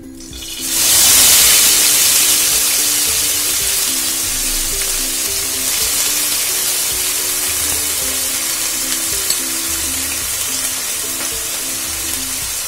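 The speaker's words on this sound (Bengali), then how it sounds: "পেঁয়াজ বাটাটা দিয়ে আমি তেলের মধ্যে ভালো করে একটু কষিয়ে নিচ্ছি।" Onion paste sizzles and fries steadily in hot oil after black cumin seeds, cooking down for pomfret fish curry; a loud, continuous crackling hiss rises sharply at the start and holds close and even throughout, with no talking.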